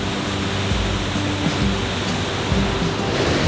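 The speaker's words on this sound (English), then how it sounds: "The higher you climb up, the more waterfalls there seem to be." Rushing water from waterfalls along a climb to a sky temple near Chiang Mai, Thailand: a steady, dense broadband roar that stays loud and unbroken throughout, with no voices.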